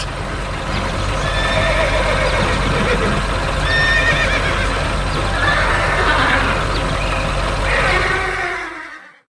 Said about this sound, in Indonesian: Lihat itu, kuda-kuda kecil sedang bermain di sekitar meja kayu.